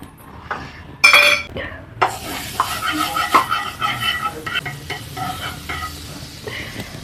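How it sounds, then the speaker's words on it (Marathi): Butter sizzling in a hot pan while making instant pizza, a soft crackle broken by sharp clinks and scrapes of a utensil against the pan, close and moderately loud. "इथं पॅन गरम करायला ठेवले, त्याच्यात बटर लावून"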